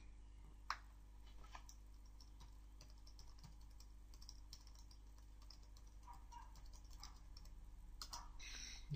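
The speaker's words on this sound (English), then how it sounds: "Typing a domain name." Quick, light key clicks from a computer keyboard as a domain name is entered into a web browser, a brief run of soft taps over a steady low hum, with no voices.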